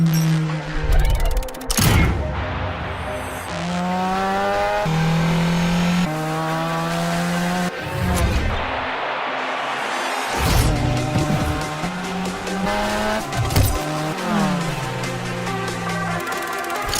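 Cars in a racing video game drifting, with tires squealing in long wailing slides over revving engines that climb and fall in pitch. The sound is loud and continuous, with sharp bursts and whooshes between runs and no voices.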